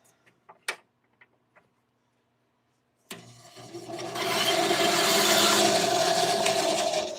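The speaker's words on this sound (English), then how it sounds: "Just using my little 10-inch bandsaw for that." A small 10-inch bandsaw starts up and cuts through a wooden pen blank, with a loud, steady cutting roar lasting several seconds after a few light handling knocks.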